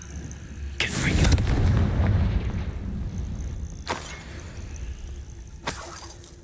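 A Confringo fire spell from Hogwarts Legacy erupts in a loud, rumbling explosive burst with crackling debris, followed by two sharper, briefer blasts later, all over steady game ambience.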